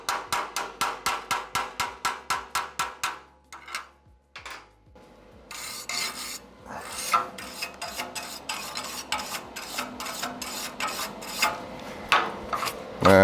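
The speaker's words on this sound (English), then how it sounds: "Grab your chipping hammer. We're going to chip the flux off" A chipping hammer taps rapidly in an even rhythm, then pauses before rougher scraping and chipping strikes knock flux off a stick-welded butt joint, irregular, close by and sharp.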